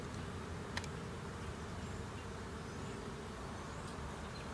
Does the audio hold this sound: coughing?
no